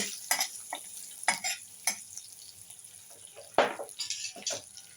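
A spiced potato and puffed rice mixture is stirred in a pan, heard as sparse, distinct scrapes and clinks of a spoon over a faint sizzle, close by and without speech.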